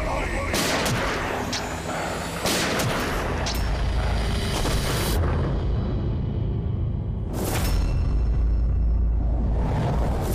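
Gunfire in a TV crime drama scene, with several loud sharp shots and booming bursts over a dense, continuous rumble across the whole stretch.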